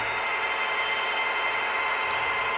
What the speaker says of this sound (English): So you always hear the electric traction motors sound at the same time as the diesels